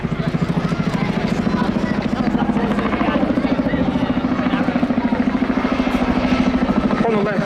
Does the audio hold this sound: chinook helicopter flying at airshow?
yes